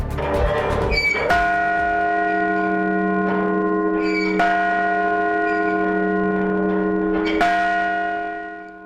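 A large bell at MSUB in Billings, Montana, rings on Martin Luther King Day with slow, resonant strikes every few seconds, its long humming tone lingering between hits before fading at the end.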